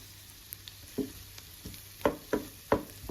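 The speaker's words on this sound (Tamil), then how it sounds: "இந்த பட்டர்லேயே இந்த பூண்டை வந்து நல்லா மிக்ஸ் பண்ணி ஃப்ரை பண்ணுங்க." Finely chopped garlic frying in butter for butter garlic chicken, a steady sizzle broken by several sharp scraping stir strokes, close and clear with no talking.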